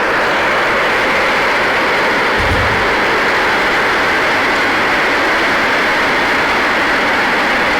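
A loud, continuous broadband roar of 27 Merlin rocket engines at launch rumbles steadily for several seconds, dense and unbroken, with no voices over it.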